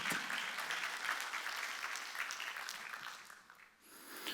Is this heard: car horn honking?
no